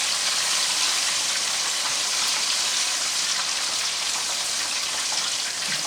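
Egg rolls deep-frying in hot oil give a steady, dense sizzle and crackle close by, continuous throughout with no talking.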